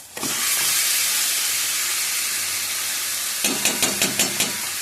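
Yogurt, ginger and green chilli marinated chicken dropped into hot oil in a pan, bursting into a loud, steady sizzling hiss, followed by a few rhythmic scraping stirs near the end.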